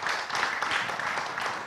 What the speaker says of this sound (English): A big round of applause for Kemen Parekraf.